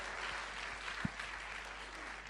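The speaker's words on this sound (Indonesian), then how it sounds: "Wow, tepuk tangan dong." Audience applause during a talk on judging company performance, a steady, fairly faint wash of clapping across the whole moment with one brief thump.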